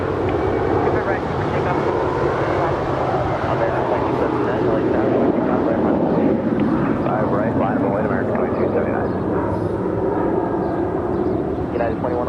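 An airliner at Los Angeles International Airport, a loud steady roar of jet engines that stays constant and near throughout, with talk faintly beneath the noise.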